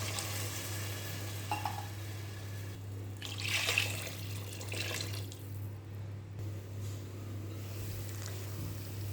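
Water is poured into a pot of rice for tomato rice in a splashy stream lasting a few seconds, over a low, steady hum.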